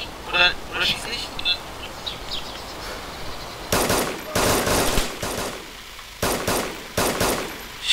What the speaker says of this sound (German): Ich hab ihn erschossen!